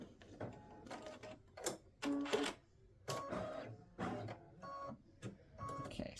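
An embroidery machine stitches flowers and lettering onto a Mother's Day greeting card in uneven, rapid mechanical bursts and clicks, fairly quiet, with short gaps between runs.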